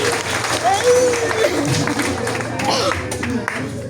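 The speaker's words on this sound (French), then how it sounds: "Et on les applaudit très très fort." Audience clapping at a stage hypnosis show rises under a voice talking over it, a crowded burst of applause with some whistling-like tones and chatter mixed in.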